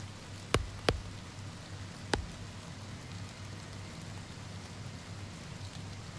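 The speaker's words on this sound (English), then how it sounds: "It's funny, you can still hear the rain from outside." Steady rain patters outside a stone building in the Oblivion Remastered game, heard muffled from indoors as an even wash, with a few sharp ticks in the first seconds.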